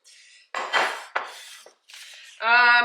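Metal baking pans clank and scrape in a few separate bursts, ending in a ringing metallic tone as one is set down or knocked.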